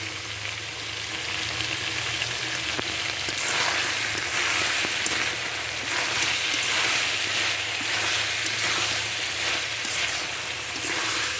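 Bay leaves and spices sizzle in hot oil as chicken curry is fried and stirred, a steady close crackle with faint scraping of stirring throughout, no voices.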